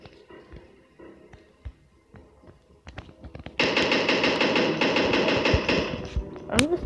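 Pixel Gun 3D video game gunfire: scattered single shots and taps give way to a loud, sustained rapid burst of automatic fire lasting about three seconds, with no talking.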